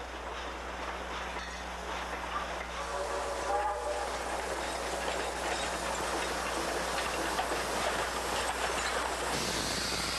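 A 1920-design Baldwin 2-8-0 locomotive rolls along the rails with a steady, moderately distant rumble, and brief horn-like tones sound near the middle.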